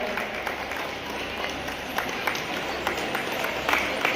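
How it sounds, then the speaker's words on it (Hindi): A crowd at an award ceremony for a handicraft group gives sustained applause, a dense, steady wash of clapping heard from within the hall, fairly loud throughout. "ताली से सम्मान दीजिएगा।"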